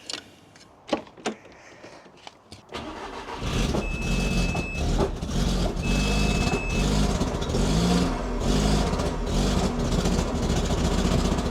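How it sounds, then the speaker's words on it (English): A 1.8T four-cylinder track car engine fitted with an SPA intake manifold runs steadily and loudly at idle after a short burst of clatter and silence at the start. "start it and see how it idles and go from there."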